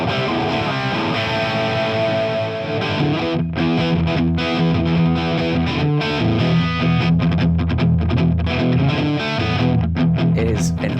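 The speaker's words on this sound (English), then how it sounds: "With just one channel, you can get the crazy preamp distortion you want" Electric guitar driven through a hand-wired single-channel JCM-800 style tube amp head kit, thick crunchy preamp distortion with sustained chords and riffing, loud and continuous.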